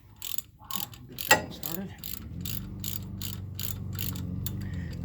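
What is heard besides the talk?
threading and ratcheting brake caliper bolts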